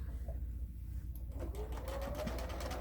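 A sewing machine stitches a tote bag seam on a free arm, starting after a brief pause and then running in a rapid, even whirring chatter, close and fairly quiet.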